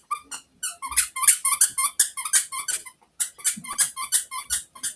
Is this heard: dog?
yes